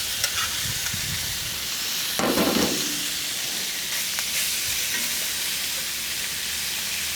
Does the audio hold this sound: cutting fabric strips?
no